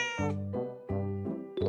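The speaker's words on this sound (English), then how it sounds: "It's a cat!" A cat meows in a children's farm animal learning game, two or three close, clear mews with a drawn-out tone, the last one short and cut off.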